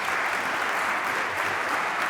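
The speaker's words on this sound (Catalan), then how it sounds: "Un bon aplaudiment, sisplau." Audience applause from a live podcast recording fills the whole moment, a dense, even wash of clapping without a break or any voices.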